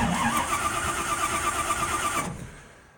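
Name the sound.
rat rod car engine starting with push button starter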